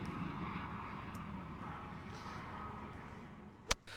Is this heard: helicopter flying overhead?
yes